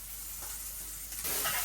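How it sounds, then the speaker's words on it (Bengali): Pointed gourd (potol) fries in a pan with a steady hiss of sizzling oil, stirred briefly, the crackle swelling louder toward the end. "পটলটা ভেজে নিচ্ছি"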